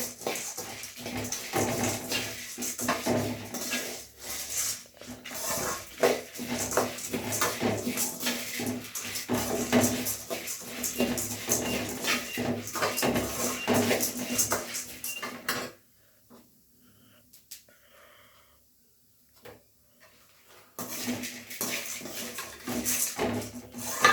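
Curry leaves roasting in a pan until golden bring continuous clinking and scraping of a spoon against the metal, with a brief quiet pause before the stirring resumes.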